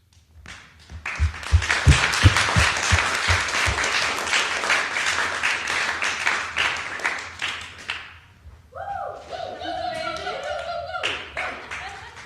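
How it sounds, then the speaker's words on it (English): Loud applause from a sizable theater audience at a Shakespeare scenes performance fills most of the stretch, dense clapping that fades out before a few voices and laughter rise near the end. "thank you for the second round of applause"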